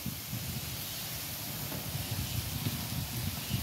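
Tomatoes, green chillies and curry leaves fry in a pan for a Tamil sundakai dish, giving a faint, steady hiss of sizzling with soft crackles and no talking.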